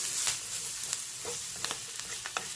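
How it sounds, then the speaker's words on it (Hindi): Green chillies sizzle steadily in a hot pan with onions for a dum-style okra curry, a constant close frying hiss with light stirring scrapes. "अब इसमें हम डालेंगे सब्ज़ मिर्च, थोड़ा सा हम इसको भी भूनेंगे"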